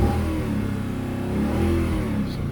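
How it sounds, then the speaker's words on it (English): An Audi A6 C6 with the 4.2 engine idles and revs, a close, steady low engine drone that swells and eases slightly as the throttle is worked, with no one talking. "Give it a couple more revs of the engine before I head out"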